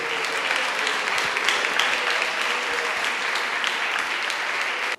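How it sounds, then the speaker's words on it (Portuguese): A church congregation claps for Jesus in a dense, loud, sustained round of applause that holds steady for several seconds and then cuts off abruptly. "Dá uma salva de palmas para Jesus."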